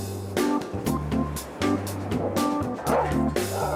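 Several dogs bark and yip in bursts at a busy Tel Aviv dog park, sharp repeated woofs close by over a steady low hum of background noise.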